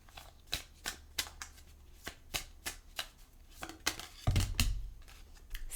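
Tarot cards are shuffled by hand in a rapid series of crisp riffling snaps at a fairly even rhythm, close and quiet, followed by a soft low thump and rustle.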